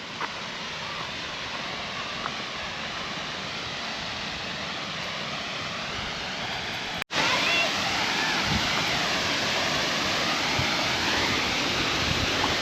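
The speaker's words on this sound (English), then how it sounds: "There's the waterfall." A waterfall roars steadily with dense, rushing white noise, loud and constant, broken only by a split-second dropout midway.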